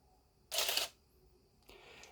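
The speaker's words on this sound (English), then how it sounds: "the flash will pop up" Pop-up flash of a Canon EOS 700 film SLR camera springing open with a short sharp mechanical snap, followed a second later by a softer whirring click, close and quiet.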